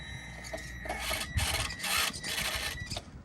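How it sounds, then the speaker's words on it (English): The tyre of an FMS FCX24 Unimog RC truck rubs against its plastic mud guard, a raspy scraping drone that swells and fades in several bursts, close and alone. "that's just the tyre rubbing on the plastic mud guard"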